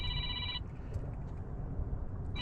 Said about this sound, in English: Sorry for the phone ringing noise.